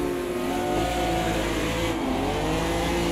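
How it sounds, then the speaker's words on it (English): A race car launches off the line in the Automobilista 2 racing game, its engine droning and rising in pitch under wheel spin, loud and continuous with other cars audible around it. "Bit of wheel spin off the line."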